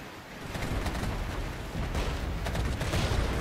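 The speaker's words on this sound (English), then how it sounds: "I'm waiting for the right opportunity to use my rocket artillery, and I think this might be it." Rocket artillery barrage in the Regiments video game, a sustained roar of dense, overlapping blasts and crackling bursts that fills the whole stretch at steady loudness, with no voices.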